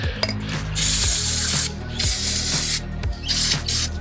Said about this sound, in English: I also have some universal cleaner that I'm just going to use to clean off the rest of the wheel a little bit